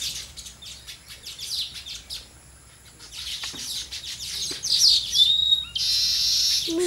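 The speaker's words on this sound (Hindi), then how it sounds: "ये देखिए बर्ड, ये आर्किटेक्चर है, ये अपना घोंसला बना रही है" Baya weaver birds chirping in a garden while building their nest, with irregular sharp chirps and whistled notes scattered across the clip, growing louder and denser toward the end, with no voices.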